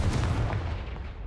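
A Confringo fire spell blasting in the Hogwarts Legacy video game, a single heavy booming explosion that rumbles and fades over a second.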